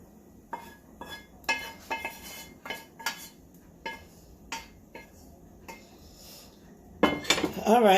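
BBQ roasted turkey wings being transferred into a bowl, with a series of sharp utensil clinks and dish knocks spaced across quiet gaps, ending in a louder clatter of cutlery and pans.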